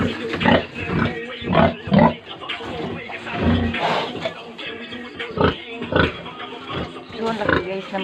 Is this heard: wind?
no